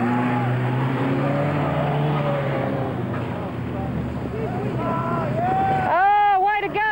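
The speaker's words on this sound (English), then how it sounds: "That's your dad driving, Darren." Banger racing cars roar around a track at a steady loud drone, with wind buffeting and crowd voices over it, and a shrill whistling or siren-like warble rising near the end.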